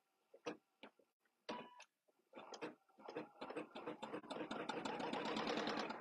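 An embroidery sewing machine with cutwork needles works a cutwork appliqué, starting with scattered ticks and taps, then building into fast, continuous rattling stitching that grows steadily louder near the microphone.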